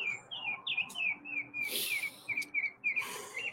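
Birds chirping in the morning, a rapid series of short, bright descending chirps repeating at a quick, fairly regular pace, moderately close over a quiet outdoor background, with a couple of brief rustling bursts.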